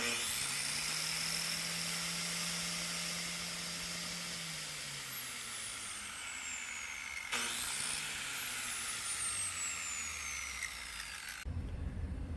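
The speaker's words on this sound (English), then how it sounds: "let's do the same thing with my grinder right here. It's a 7 amp grinder." A 7 amp angle grinder powered by a portable power station runs free without touching any workpiece, spinning up to a high steady whine and winding down twice, loud and close.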